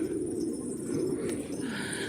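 A flock of domestic pigeons in a loft keeps up a dense, low, continuous cooing at close range, with a few faint higher chirps above it.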